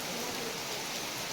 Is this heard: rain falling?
yes